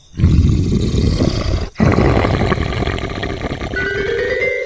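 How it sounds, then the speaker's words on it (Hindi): A deep, loud animal roar rumbles continuously, briefly breaking off before resuming with rising tonal sounds near the end. "तभी अचानक से किसी के गुर्राने की आवाज आती है।"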